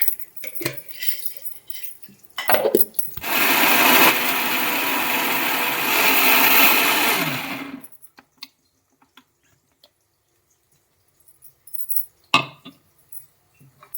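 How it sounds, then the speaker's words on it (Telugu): Mixer grinder blending sorrel (chukkaaku) chutney with peanuts in a mixie jar, a loud steady whirring burst of about five seconds between clattering handling noises, then quiet with a few knocks. "మనము చల్లారించుకున్న చుక్కాకు చట్నీకి మనం ఇప్పుడు మిక్సీ జార్లో వేసుకుందాం."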